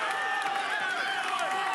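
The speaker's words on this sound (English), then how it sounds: "This Allentown crowd here at the PPL Center." Arena crowd at a wrestling event in Allentown's PPL Center cheering and shouting, a dense sustained roar of many voices with clapping mixed in.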